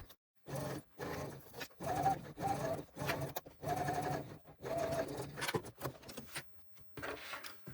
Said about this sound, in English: sewing through the longer of the lining pieces and the zipper tape.